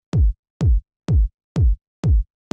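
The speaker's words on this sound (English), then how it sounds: "This is a pretty standard, sort of deep and punchy kind of kick you would hear in this type of house." Deep, punchy 909-style house kick drum playing alone, six evenly spaced hits about half a second apart, each a loud sharp click that drops into a booming low thump.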